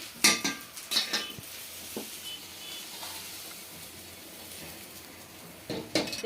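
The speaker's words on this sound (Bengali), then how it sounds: "এখন আঁশটা আমি ঢেলে নিচ্ছি।" Fried katla fish scales are tipped out of a metal pan, with sharp scraping clinks of a utensil against the pan near the start and end and a faint sizzle between them.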